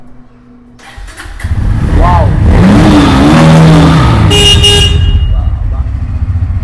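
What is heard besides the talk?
used N160 motorcycle engine starting and revving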